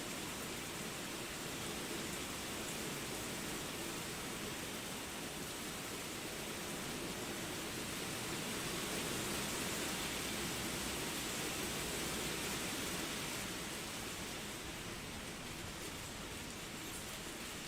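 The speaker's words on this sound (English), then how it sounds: "This is just pouring down rain." Heavy, steady downpour hissing across a broad band in the video game Final Fantasy XIV, continuous and dense for the whole stretch with no voices.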